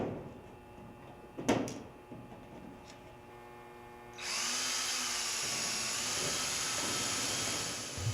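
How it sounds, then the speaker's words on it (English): Drill boring a hole through the upper corner of an aircraft-style metal panel, a sharp burst near the start, then a steady loud whirring drill run that holds for several seconds. "Match drill a hole in the upper corner of the panel."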